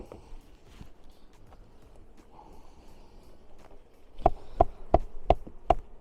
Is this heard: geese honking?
no